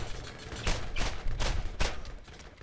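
Gunfire in the video game Borderlands: several sharp shots crack out at irregular intervals over a busy mechanical background, fairly loud and without talk.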